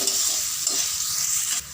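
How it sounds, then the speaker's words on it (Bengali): Cut potatoes frying in a pan with turmeric powder and salt, a loud steady sizzle stirred throughout, alone with no voices, ending in a slightly quieter hiss. "স্বাদ মতো লবণ দিয়ে আমি আলুটাকে ভালো করে ভেজে নেব"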